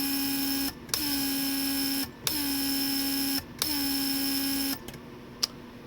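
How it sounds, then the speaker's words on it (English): Vacuum pump in a Mercedes 300SD lowering the rear headrests, running in four steady electric whirring bursts separated by short pauses and clicks. The pump is close and loud, followed by a brief final click. "Once you hit that switch, it creates vacuum and shuts down."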